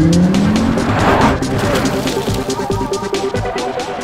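Audi RS Q3's 2.5-litre five-cylinder turbo engine revs hard with a rising tone, then breaks into rough, loud rumbling and stuttering up close.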